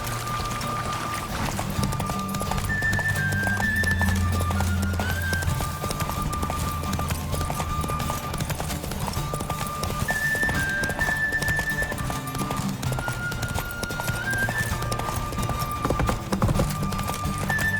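A horse gallops in The Witcher 3: Wild Hunt, with rapid rhythmic clip-clop hoofbeats running steadily throughout during a race, under game music and ambient sound.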